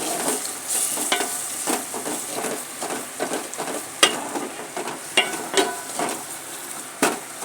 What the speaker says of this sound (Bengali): জিরে দিচ্ছি।